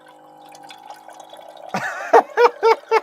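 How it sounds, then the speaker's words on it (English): Hot water dispensed from the press tap of a 5-gallon water bottle: a quiet start, then a burst of running liquid followed by three evenly spaced, close gurgling glugs. "It's literally like it's like a USB tap. You press it. I've just got a bottle of water. It's hot water."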